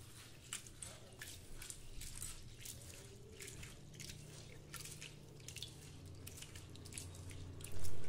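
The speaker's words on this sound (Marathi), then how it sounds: "सर्व साहित्य पाण्याने स्वच्छ धुवून घेऊ।" Urad and moong dal with fenugreek seeds rinsed in water in a bowl, giving a steady run of soft drips, squishes and swishing splashes at close range, with a low hum underneath and a louder slosh at the end.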